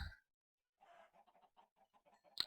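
Chickens cluck in the Minecraft modpack Agrarian Skies, a string of short, soft, closely spaced clucks in an otherwise quiet game scene, ending with a sharp click.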